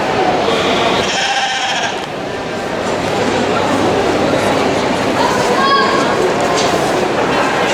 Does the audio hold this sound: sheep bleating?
yes